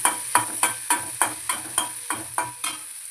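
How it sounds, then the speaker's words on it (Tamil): Onions sautéing with a little salt in a pan for wheat upma, heard as a regular series of sharp stirring scrapes over a soft sizzle, close and fairly loud, with no talking. "வெங்காயம் வதங்கணும்."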